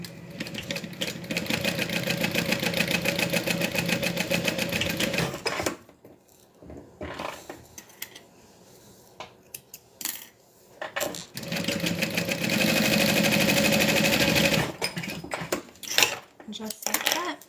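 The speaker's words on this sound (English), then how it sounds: "I'm just going to sew along each edge and then add the hardware." Sewing machine stitching along the edges of a fabric wristlet strap, a steady close mechanical whir for about five seconds, a pause with faint handling and clicks, then another long continuous run of stitching.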